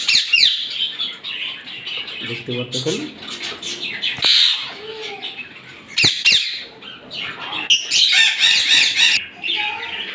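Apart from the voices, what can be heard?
pet birds of a breeding pair chirping and flapping in cage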